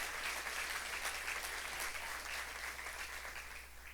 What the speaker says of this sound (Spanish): dele ese fuerte ese aplauso a ese Dios grande